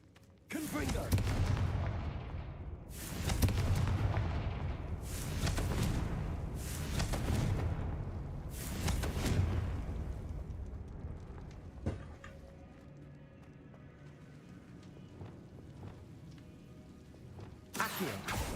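A Confringo fire-blast spell explodes repeatedly in the Hogwarts Legacy video game, several sharp, loud blasts in quick succession that fade into quieter rumbling, with one last burst at the end.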